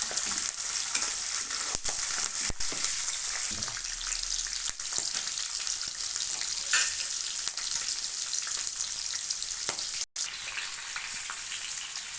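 Chopped green chillies crackle and sizzle steadily in hot tempering oil for karivepaku rice, a dense, loud, continuous frying hiss with occasional sharper pops and stirring scrapes, no voices.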